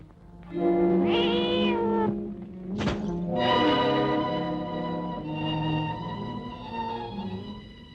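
A cat meows in long drawn-out cries, interrupted once by a sharp thump, then continues meowing plaintively.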